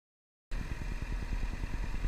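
A motorcycle engine in a parking lot runs with rhythmic low pulses as the rider slows and downshifts, steady and fairly close after a silent start.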